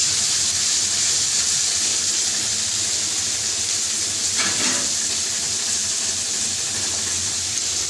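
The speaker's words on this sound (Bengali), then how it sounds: "কড়াইয়ে তেল গরম করে এখানে কাঁচা লঙ্কা আর কালো জিরা দিয়ে কিছু পেঁয়াজ কুচি ভেজে নেওয়া হচ্ছে" Chopped onions frying in hot oil in a pan with green chillies and black cumin, giving a steady, loud, close hiss that swells briefly midway.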